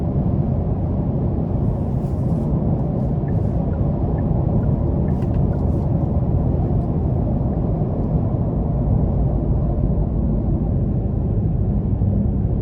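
Steady low road rumble and tire noise inside a 2024 Genesis G70 2.5T Sport Prestige cruising in eco mode on the interstate, a constant near drone with no talk.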